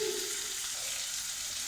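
Onions frying in hot tempering oil in a South Indian home kitchen give off a steady, close sizzle with a continuous bright hiss and no voices.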